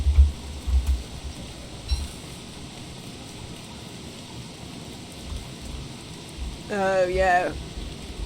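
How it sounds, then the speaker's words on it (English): Steady rain falls in the video game Don't Starve as a soft, continuous hiss under a few low thumps at the start. Someone speaks briefly near the end. "Wilson doesn't like it when it rains on him."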